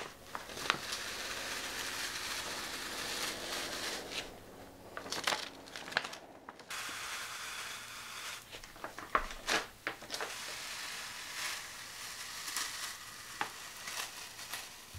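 Grip tape being peeled off a skateboard deck, a continuous close sticky tearing and crackling that runs throughout, with a brief pause and a few sharper rips and knocks toward the middle, alone with no talk.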